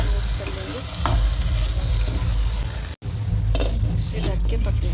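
Crushed green chillies being stirred into Delhi-style bhuna keema in a frying pan: a steady loud sizzle throughout with scraping stir strokes, briefly cut by a near-silent gap midway.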